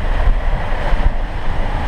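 Ocean waves surge and rush continuously around a sailing boat at sea during a rough passage to Luperon, with steady wind noise buffeting the microphone and no pauses throughout.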